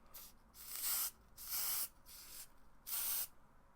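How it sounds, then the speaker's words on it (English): Beach texturizing hair spray misted onto hair in three soft, short aerosol hisses with quiet pauses between them, close and gentle. "And then we're just going to lightly spray on it."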